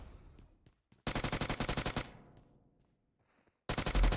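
Automatic gunfire in the PUBG Mobile video game comes in two sharp bursts of rapid shots, separated by quieter gaps with scattered distant pops.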